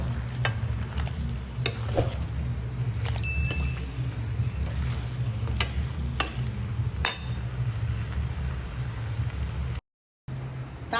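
Goat head curry bubbling in a pot, a steady low simmering rumble throughout with a few faint clinks and stirring scrapes, close and alone with no talk, then a brief dropout of silence near the end.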